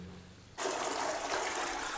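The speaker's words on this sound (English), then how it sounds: "Now flushing the toilet" A toilet flushing in a damp basement bathroom, starting abruptly after a quiet moment and becoming a steady, loud rush of water close by.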